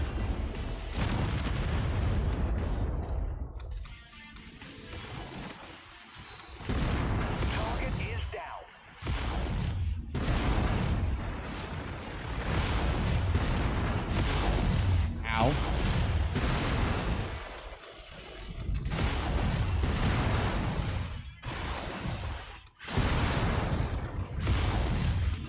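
Missile explosions in the mech combat game Mechwarrior 5: Mercenaries, repeated loud booming blasts and bursts of fire in clusters across the stretch, with a voice talking between and over them.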